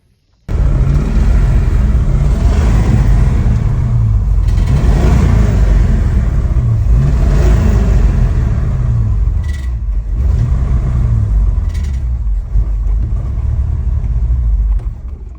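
An old car engine, fed gas poured into the carburetor, runs loud and rough close by, a steady heavy rumble with uneven surges throughout, no talk over it.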